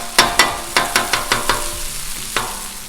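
Sausages and corned beef hash fry on a Blackstone griddle, sharp metal spatula scrapes and taps striking the hot surface in an irregular rhythm over a steady low sizzle.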